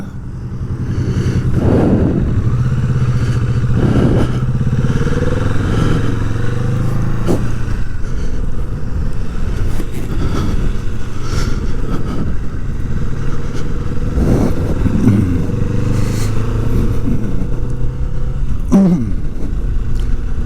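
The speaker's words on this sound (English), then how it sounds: "just leaving Debra now after lunch and riding to Mount Me summit" A 2020 Kawasaki Vulcan S motorcycle cruising along a tourist drive toward a mountain summit, its engine droning loudly and steadily with wind rush and a few rises in revs as it shifts through gears.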